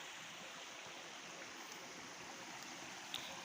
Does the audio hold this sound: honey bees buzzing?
no